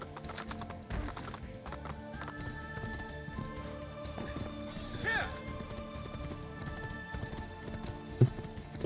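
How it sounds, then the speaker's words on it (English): Horse hooves clatter across a small bridge in Assassin's Creed II, an irregular clip-clop of game footsteps with a brief whinny midway, moderately close under faint background game sound. "The horse randomly really struggled with that little bridge."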